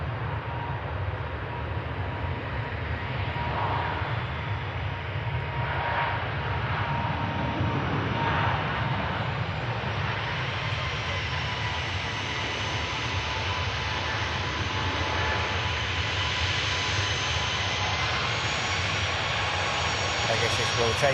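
An EasyJet jet airliner taking off, a steady, distant engine roar holding for a long stretch with faint voices underneath.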